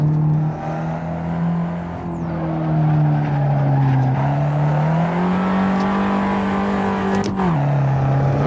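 Turbocharged Fiat 500 Abarth engine in a racing video game, a steady droning note that rises and falls with throttle, with brief dips and a sharp shift near the end, loud and alone without talk.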